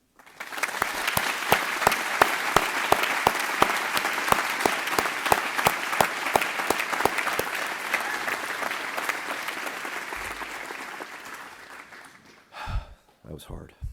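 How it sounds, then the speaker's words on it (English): Sustained applause from an audience, dense clapping that builds quickly and holds steady before fading out near the end. "Please join me in a round of applause for my family."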